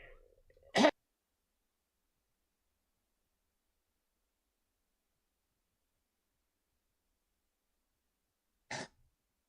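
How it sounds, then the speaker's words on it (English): A man on a livestream clears his throat once, short and close, then near silence and a second faint burst later. "I had to clear my throat there."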